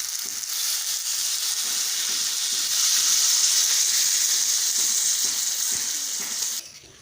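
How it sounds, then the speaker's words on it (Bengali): Water hits a hot pan of frying turnip and potatoes, setting off a loud, steady hiss of sizzling that holds for several seconds before dropping off sharply near the end. "এখন দিয়ে দেব পরিমাণ মতো জল"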